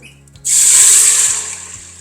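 A cup of water poured into an Instant Pot, a single short splashing gush that starts abruptly and tapers off over about a second and a half, close and clear against a faint low hum.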